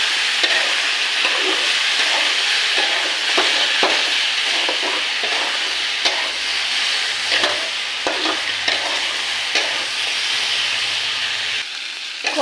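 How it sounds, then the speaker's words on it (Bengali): Spice paste with turmeric and chili powder is sautéed in a pan for a small-fish curry, giving a steady, close sizzle and frying hiss with occasional stirring scrapes throughout. "দেবো হলুদ গুঁড়ো, দেবো লঙ্কার গুঁড়ো, এটাকে কষিয়ে নেবো"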